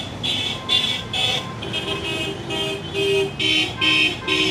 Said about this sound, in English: This beep, beep, beep, beep, beep, beep, it actually means something.